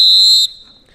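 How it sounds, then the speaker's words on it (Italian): A referee's whistle signals the end of the first half of a high-school league football match between FC Vittorio Veneto and Accademia Avvenire. One loud, shrill blast lasts about half a second and then fades into a faint tail. "Duplice fischio, dunque finisce qui il primo tempo regolamentare"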